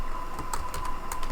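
Fingers type on a computer keyboard, producing a brisk run of close, distinct keystrokes in an uneven rhythm.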